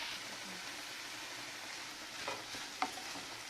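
Chicken with a spoonful of salt and a teaspoon of thyme is stirred in a pan, giving a soft continuous sizzle with light scraping and a few small clicks of the spoon.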